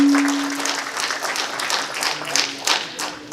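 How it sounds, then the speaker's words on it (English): Audience applause at a Constitution Day and Dr. Ambedkar awards ceremony for an ambassador, a dense wash of clapping from many hands that fades gradually, with a steady tone underneath and no talk over it. "let's give another round of applause to Ambassador Ajay"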